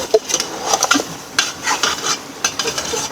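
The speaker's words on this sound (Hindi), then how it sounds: "अब ये मैंने टमाटर डाल दिए हैं।" Chopped tomatoes going into a pot of bone-in mutton karahi, with close, busy clatter of a spoon against metal, scraping and stirring, and a faint sizzle underneath.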